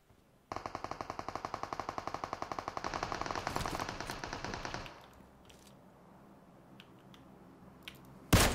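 An M249 light machine gun fires a long sustained burst in PUBG Mobile, loud, close and rapid for about four seconds, followed by quieter game ambience and a few scattered clicks.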